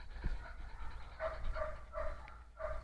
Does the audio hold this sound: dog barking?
yes